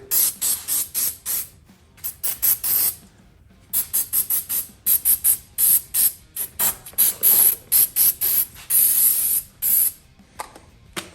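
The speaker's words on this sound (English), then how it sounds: "Spray this on here." Repeated short bursts of aerosol spray hissing close by onto a pit bike handlebar grip, in quick irregular pulses with brief gaps between them.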